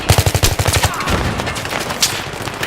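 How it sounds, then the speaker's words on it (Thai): Rapid gunfire from the Battlefield 3 video game: a burst of about a dozen evenly spaced shots over the first second, then a continuous rumble of battle noise with a sharp crack near the end. "อุ้ยเฮียกระสุนผ่านหัว"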